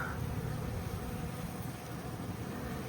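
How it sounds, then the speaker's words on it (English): Dense, continuous buzzing of a calm honey bee swarm surrounding the listener, steady and fairly loud with no pauses. "Most of the flying bees now are pretty much down here."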